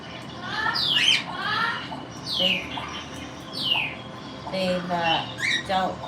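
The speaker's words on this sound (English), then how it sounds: "What's Cookie complaining about?" A pet parrot squawks and screeches in repeated loud, sharp bursts at close range, with short pauses between the calls and a person's talk heard faintly.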